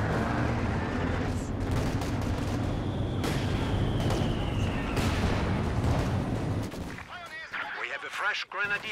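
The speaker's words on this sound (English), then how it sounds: "Rocket artillery off to a slow start for every player." Rocket artillery and gunfire in a Company of Heroes 2 4v4 battle on the Redball map: continuous booming barrages and crackling shots fill the scene loudly, thinning toward the end as a commentator talks.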